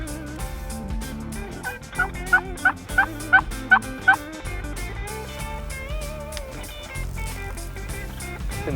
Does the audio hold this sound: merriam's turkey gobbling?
yes